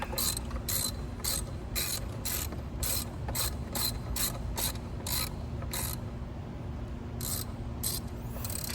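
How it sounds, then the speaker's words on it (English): A ratchet wrench clicks in quick regular bursts while tightening the bolts of a CTS turbo intake on an Audi A4, close and crisp with short pauses between strokes and no voices. "at this point, I go ahead and I tighten down the bolts that hold it to the grommet"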